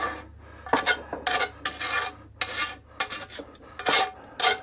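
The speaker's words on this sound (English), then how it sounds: "Hopefully that scraping isn't too loud." Metal scraping against a flaming-hot cast iron pan full of meaty baked beans, a run of loud, rasping strokes in irregular bursts with short pauses between them, close and with no talking.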